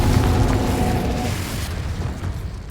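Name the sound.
Confringo blast spell in the video game Hogwarts Legacy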